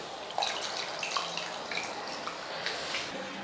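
Soaked tamarind being dissolved and strained in water for sambar, giving soft, close dripping and trickling liquid sounds that run steadily throughout with small splashes.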